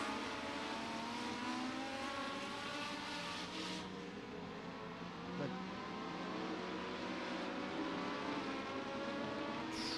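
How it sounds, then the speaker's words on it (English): INEX Legend race cars running the final lap of a feature race at Beckley Motor Speedway, a continuous engine roar at a distance, steady and broad with slight swells as cars pass, no voices. "One last lap here in your INEX Legends."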